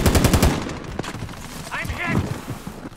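Rapid automatic gunfire in a shooter video game, bursts of close shots followed by further volleys, with players talking excitedly over the action.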